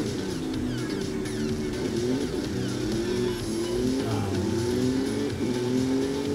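A car engine in the racing video game Forza Horizon 5 revs and drones continuously at moderate volume, with rising and falling pitch sweeps as it accelerates, heard without clear talking.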